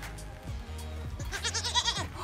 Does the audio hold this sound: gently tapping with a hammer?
no